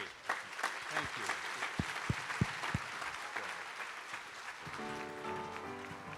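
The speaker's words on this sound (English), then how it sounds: "we applaud you for that, don't we?" Audience applause rises in a large gathering, dense clapping with a few loud individual claps standing out, and an organ-like chord entering near the end.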